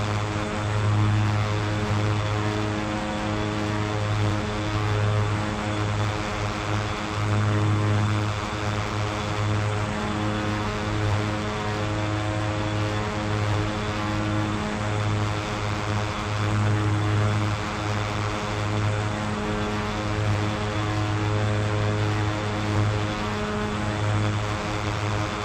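An OV-10 Bronco twin-propeller aircraft in the DCS flight simulator game, its engines droning steadily from inside the cockpit with a pulsing, throbbing propeller hum that holds constant throughout.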